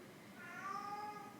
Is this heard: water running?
no